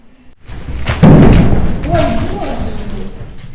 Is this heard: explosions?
yes